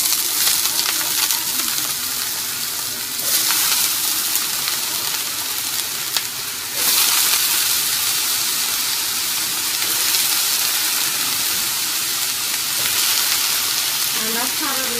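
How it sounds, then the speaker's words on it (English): Potato fries sauté in a tablespoon of oil in a pan, giving a steady, loud, close sizzle that runs the whole time, with brief swells and a few clinks of stirring; no one speaks. "So you just saute them here for just a couple of minutes"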